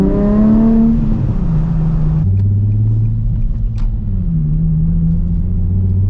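A 2007 Nissan 350Z HR engine revs loudly while driving, rising through the gears in the first seconds before settling into a steady, droning exhaust hum with a brief shift partway through, with no talking over it.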